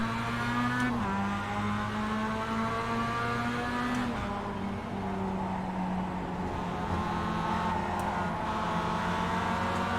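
Mazda MX-5 race car in a sim racing game, its engine droning and climbing steadily through a long first gear, with other cars' engines layered underneath at close range and no talking.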